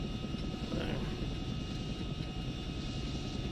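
Chinook helicopter engine at full throttle in a video game, a dense continuous roaring whine with heavy low rumble, steady and loud throughout.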